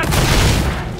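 An explosion in the video game Killing Floor 2, a loud, dense boom filling the full second without a break.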